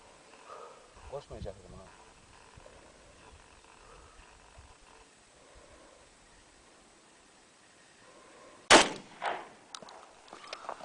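A single loud, close hunting shotgun shot in an outdoor shooting contest among friends, with a short echo after it, following stretches of quiet talk and background noise.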